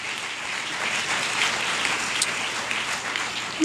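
A church congregation applauds during a French-language sermon, a steady wash of clapping sustained for several seconds at moderate level, ending with a brief louder burst.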